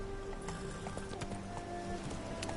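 A horse named Roach galloping in a video game, with a fast, steady clip-clop of hooves running continuously at moderate distance over a faint background hum.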